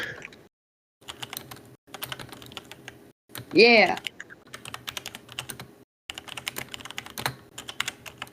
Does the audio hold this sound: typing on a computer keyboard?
yes